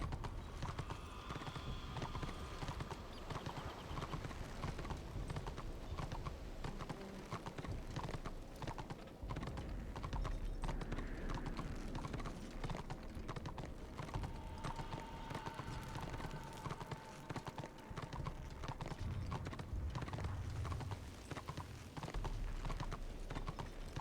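Horse hooves clip-clop steadily in the fantasy online game Warhammer Online: Return of Reckoning, a continuous, fairly faint rhythmic trotting under game ambience with occasional soft clicks.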